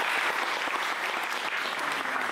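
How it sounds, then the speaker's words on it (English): Wedding guests applaud the photographer at a reception, a dense, steady wash of many hands clapping at once, fairly loud and close, with no voices rising above it. "Your appreciation for Neville from Lightree."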